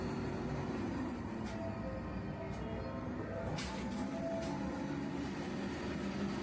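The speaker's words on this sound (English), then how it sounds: "You can still hear the announcement sounds from the station nearby." Trains rumble and wheels squeal near a station in Tokyo, heard from inside a hotel as a steady low roar, with a high whine that drops out midway and returns, plus brief clanks.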